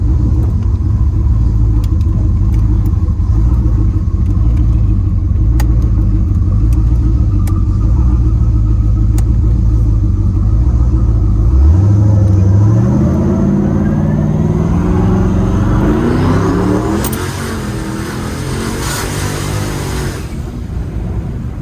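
A car engine rumbles loud and close on a rough street, a steady deep idle that shifts midway into rising revs and acceleration, then eases off.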